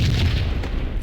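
A grenade explodes in a video game, a single deep, loud boom with a rumbling tail that lasts about a second.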